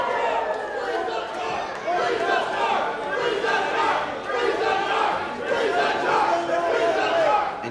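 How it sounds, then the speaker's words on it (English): Wrestling crowd chanting at a steel cage match, a loud rhythmic roar of many voices rising and falling in waves, with shouts and cheering filling the arena throughout. "you hear the crowd chanting here"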